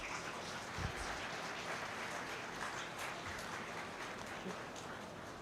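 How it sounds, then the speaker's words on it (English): Audience applause at an Independence Day event, a steady dense wash of clapping from a crowd that carries evenly throughout, with no speech over it. "You have to clap for him"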